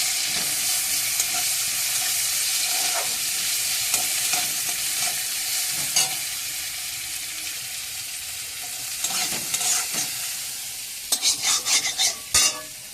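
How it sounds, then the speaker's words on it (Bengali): Chopped onion and panch phoron frying in oil in a kadai, a loud continuous sizzle broken by repeated scraping stirs of a spatula, with sharper metallic clinks near the end. "পাশে কড়াইতে তেল দিয়ে একটু পাঁচফোড়ন দিয়ে একটু পেঁয়াজ কুচি,"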